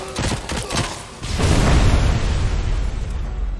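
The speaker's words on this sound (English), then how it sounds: "I heard a grenade launcher going off." A grenade launcher fires in the Robocop: Rogue City video game, with a few quick bursts early on, then a heavy rumbling boom that swells and lingers loudly to the end.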